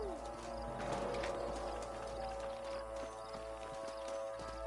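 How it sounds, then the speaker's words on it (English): Horses walk along in Red Dead Redemption, their hooves clip-clopping in a steady, overlapping rhythm over a continuous low ambient hum, with no talk. "All right, leave the horses here and follow me."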